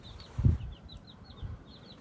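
Chickens on a small family farm clucking softly, a few low clucks at a distance with faint higher bird chirps in the background.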